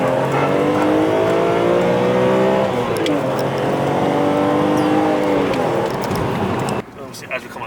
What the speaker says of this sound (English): Give it a little rev just to honour its home.